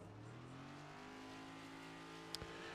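A NASCAR Cup Series race car idles and holds steady revs on pit road at Phoenix Raceway, a continuous loud engine drone with rising harmonic tones and a brief sharp clack near the end.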